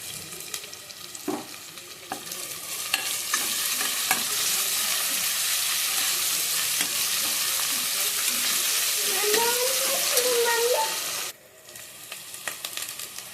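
Chicken curry base with fresh ginger-garlic paste sizzling steadily in a pan while a spoon stirs and scrapes through it, a continuous close frying hiss with soft clinks, cutting off near the end.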